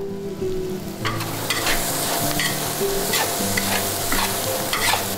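Shallots and dried shrimp are stir-fried in a wok to release their aroma for rice dumpling filling: continuous loud sizzling with repeated scraping strokes of a spatula, no voices.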